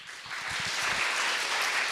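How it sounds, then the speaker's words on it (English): Audience applause at a startup pitch competition award ceremony, dense clapping that swells in quickly and holds at a steady, fairly loud level for a couple of seconds. "ladies and gentlemen, big applause"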